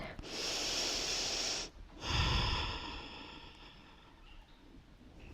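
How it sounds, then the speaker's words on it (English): During a shoulder mobility stretching exercise, a person takes a long, deep, close breath in, pauses briefly, then lets out an audible, hissing breath that fades slowly. "Take a breath."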